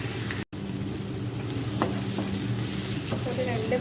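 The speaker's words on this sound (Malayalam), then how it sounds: "ഇഞ്ചിയും വെളുത്തുള്ളിയും പച്ചമുളകും കൂടി അരച്ച് വെച്ചത് ചേർക്കാം. ഇതും 2 മിനിറ്റ് ഒന്ന് നന്നായിട്ട് മൂപ്പിച്ചെടുക്കാം." Ground ginger, garlic and green chilli paste sautés in a pan for chicken masala dosa, an even close sizzle with a steady hum, a momentary cut near the start and a few faint stirring taps.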